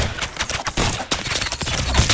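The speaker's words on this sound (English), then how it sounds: "Sounds like an Uzi." Rapid automatic gunfire, like an Uzi, rattles in a video game. Loud, dense bursts repeat almost without pause for a couple of seconds.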